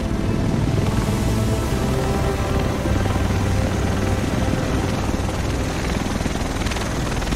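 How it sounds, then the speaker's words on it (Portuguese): A helicopter arrives in Tom Clancy's The Division, its rotor chopping loudly and steadily throughout with a constant engine roar, close and dominant. "O resto de nós deve estar nesse helicóptero."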